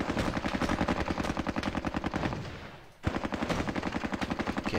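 Rapid machine gun suppression fire from Squad Battles: Tour of Duty, loud and continuous bursts with a brief lull near the middle before the rattling resumes at full intensity.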